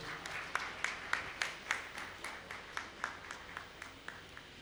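A small crowd at an Indian Red Cross Society event in Veraval claps in a slow, fairly regular rhythm, faint and distant over a low room hum, with distinct individual claps standing out.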